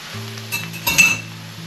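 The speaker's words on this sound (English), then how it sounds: "Just before I add the egg, I put a little pat of butter in there." A small pat of butter sizzles in a pan before eggs go in for an omelet, a soft, close frying hiss with a steady low hum beneath and a brief clink of utensils.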